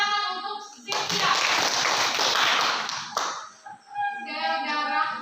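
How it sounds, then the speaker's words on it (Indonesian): A short burst of classroom clapping from students for a classmate, a couple of seconds of brisk hand claps between stretches of a teacher's speech. "Tepuk tangan untuk Cynthia"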